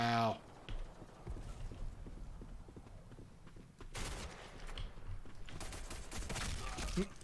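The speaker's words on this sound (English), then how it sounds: "pistol kill on Kramer" Pistol gunshots in the video game Black Squad come as sharp, scattered cracks among quieter game noise at low overall volume, with a person talking over them.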